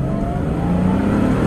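A 1983 Porsche 911 SC's engine revs and accelerates from inside the car, a steady, loud engine drone that rises in pitch as the car pulls away.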